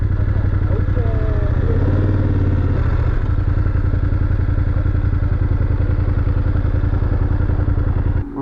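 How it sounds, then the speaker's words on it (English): Mopeds pass along a road in France in a steady, loud run of small-engine buzzing and rattling that carries on throughout with no voices. "So many mopeds."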